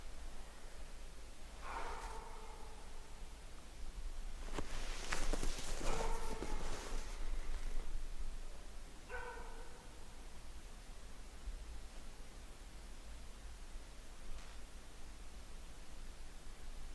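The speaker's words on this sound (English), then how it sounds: "There goes the dog again now." A dog barks in a forest at night, sending short bursts from some distance across a steady hiss of background noise: a pair near the start, another after a louder noisy patch, then a faint last one.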